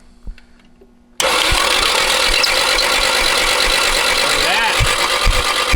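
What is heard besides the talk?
abandoned JDM sports car engine cranking and idling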